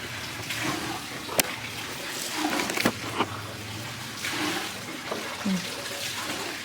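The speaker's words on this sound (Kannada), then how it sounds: "ಆಂಟಿ ಎಲ್ಲ ವಾಶ್ ಮಾಡ್ತಾಯಿದ್ದಾರೆ" Water splashing and running over a terrace floor as it is washed during house cleaning, a steady broadband wash with brief louder splashes and clatters, a voice faintly audible in the background.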